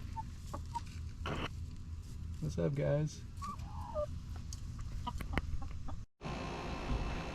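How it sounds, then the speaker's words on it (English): Backyard chickens cluck in short bursts at a neighbor's property in the background, a few scattered calls over steady outdoor noise, while a man briefly greets people. "They even got some chickens."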